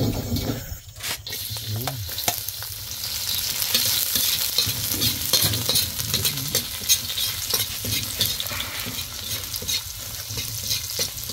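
Chopped onion and garlic fry in hot oil, giving a steady, loud sizzle throughout. Frequent stirring scrapes cut through the frying noise, heard close up with no talk over it.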